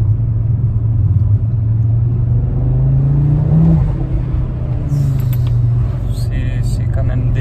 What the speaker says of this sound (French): C'est les turbos? Ouais, c'est les turbos, il me semble. Ah ouais, on les entend.